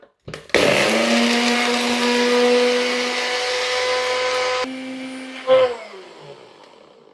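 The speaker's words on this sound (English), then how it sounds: "my trusted bullet, and let's get them blitzed." Bullet blender blitzing dried eggs into powder: a loud, close motor whine starts abruptly, runs steadily for about four seconds, drops as the load changes, then stops with a short clatter as the jar settles.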